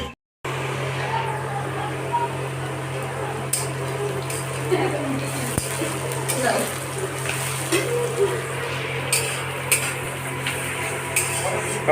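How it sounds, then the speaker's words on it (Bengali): Onions frying in a pan give a steady, moderate sizzling hiss over a constant low hum, with a few clattering bumps scattered through. "পেঁয়াজ ফ্রাই চলছে, ভাজা হয়েছে"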